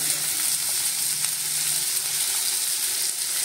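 Onions fry in a pan for mutton rakti, giving a loud, steady, unbroken sizzle throughout with no voices.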